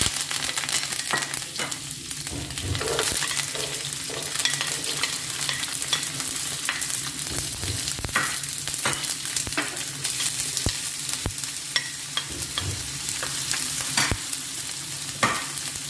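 Ginger, garlic and curry leaves sizzle steadily in hot oil for beetroot pickle, a constant loud crackle with scattered sharp pops and scraping stirs throughout, no voices.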